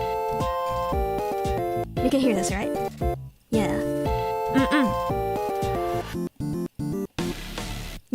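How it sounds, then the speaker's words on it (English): MIDI harmony guide playback for a song cover steps through blocky synthetic chords and gliding melodic lines, with voices speaking over parts of it and a few brief dropouts. "so you'll just hear the MIDI guide for it"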